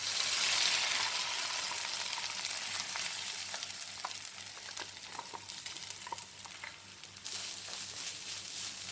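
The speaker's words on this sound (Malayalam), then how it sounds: "അപ്പോൾ നമുക്ക് തേങ്ങ ഇട്ട് കൊടുക്കുക." Grated coconut dropped into a hot pan of mustard seeds for a sadya-style cabbage thoran, a steady loud sizzle with scattered pops and stirring scrapes, close by and without voices.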